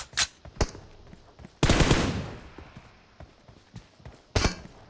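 Gunfire in the mobile game PUBG Mobile: a few short bursts, one longer loud burst of automatic fire in the middle, and scattered lighter clicks and shots, with no speech.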